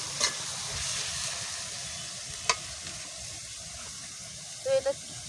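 Grated pumpkin with dried fish frying in a pan, a soft steady sizzle broken by a few sharp scrapes and clinks of a spoon stirring, fairly quiet throughout.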